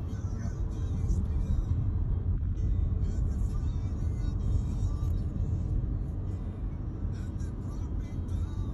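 Inside a car during a driving lesson, the engine rises gently to 30 km/h, giving a moderate, continuous low rumble of engine and road noise heard from the cabin.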